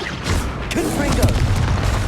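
A Confringo blasting spell explodes in the Hogwarts Legacy video game, giving a dense, sustained booming roar with crackling bursts that stays loud throughout.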